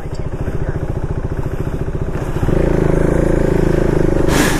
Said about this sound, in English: I'll get back to the bike and just fire it up and then just fly.